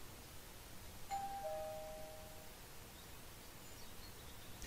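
A doorbell in the video game Beyond: Two Souls rings once with a clean, faint two-tone chime that fades, set against a quiet, hissy suburban ambience with no talk.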